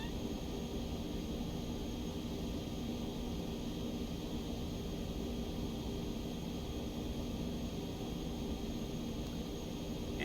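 Aerobask E1000 aircraft engine on takeoff from runway 24 in the X-Plane 11 flight simulator, a steady, loud broadband roar that holds evenly throughout with no talking.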